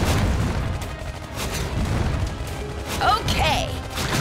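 A grenade blast in the Iron Marines mobile strategy game: a dense, booming battle rumble with crashing impacts under shouted unit voice lines, swelling louder near the end.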